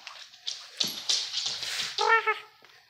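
A dog gives a few short, rough coughs and snorts close by, a brief burst of harsh breathy sounds followed by a small whimpering note, with no talking.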